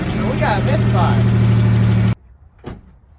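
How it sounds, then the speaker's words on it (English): A 1995 Toyota 4Runner engine idles roughly with a misfire, a loud, close, uneven drone with voices faintly over it. It cuts off abruptly partway through, leaving near silence broken by one brief knock. "We got a misfire."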